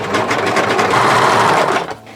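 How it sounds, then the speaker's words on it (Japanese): A sewing machine stitching yukata fabric into a ribbed-knit piece, with a loud, close, continuous motor whir and rapid needle chatter for about two seconds before it slows and stops. "ちょっと引っ張りながら生地に沿うように縫っていくとやりやすい"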